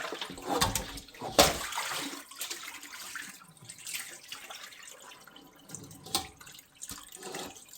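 Running tap water splashes and gurgles unevenly over raw goat meat being washed, with a few sharper splats and bursts as the flow hits it, no voices.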